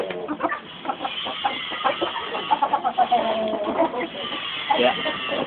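Chickens clucking repeatedly in short, irregular bursts, close by, with a busy farmyard murmur underneath.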